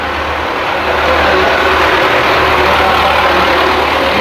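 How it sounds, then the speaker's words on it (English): A tractor on a Cuban roadside rumbles past with a loud, steady low engine drone that swells slightly as it nears, continuous throughout with no talk. "we're gonna let the tractor go by"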